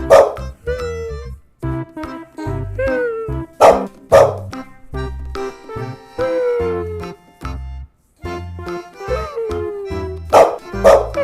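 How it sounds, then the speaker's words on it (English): A dog barks repeatedly, loud and close, with sharp barks mixed with drawn-out whining howls and yips in an irregular rhythm, no talking. "Dog."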